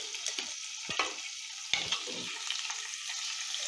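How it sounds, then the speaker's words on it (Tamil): Fish lightly frying in a little oil in a clay pot, a soft steady sizzle broken by a few sharp spits and brief clatter, close and fairly quiet. "இதுக்கு லைட்டாக பொரித்து எடுக்கணும், அதுக்காக பொரிக்க போட்டுருக்கேன்."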